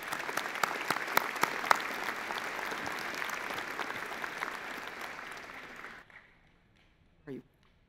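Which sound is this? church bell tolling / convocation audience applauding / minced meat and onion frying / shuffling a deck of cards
convocation audience applauding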